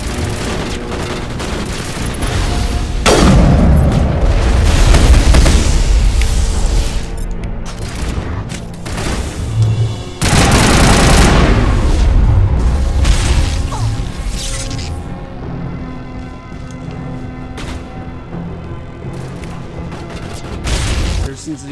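Heavy gunfire and booming explosions fill a Mass Effect firefight, with dense bursts of shots and blasts, a lull mid-way, then renewed intense volleys, while a player speaks at times over the din.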